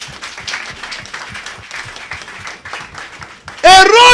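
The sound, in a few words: congregation applauding in church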